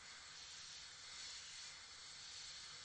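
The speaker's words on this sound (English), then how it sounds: "I'm just using a cheap airbrush, by the way, with a dual capacity tank." A cheap airbrush with a dual-capacity tank sprays paint onto a model Batmobile Tumbler's rims, giving a steady, faint airy hiss that holds evenly from start to end.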